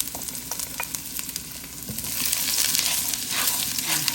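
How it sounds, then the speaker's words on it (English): Garlic sautés in a pan over a flame that is too hot for an Alfredo sauce, a close, bright sizzle with scattered pops and spatula scrapes that swells louder in the second half. "And saute some garlic."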